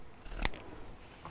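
Fabric scissors make a single crisp snip while trimming the ends of sewing material, close and clear in a quiet room, followed by a faint second touch.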